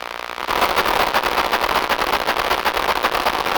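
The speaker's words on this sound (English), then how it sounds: "When you get that filter cut off, it sounds really like bassy and drony." Synthesizer patch with its filter cut off, producing a dense, bassy droning tone that kicks in after a brief quiet start and holds steady and loud throughout.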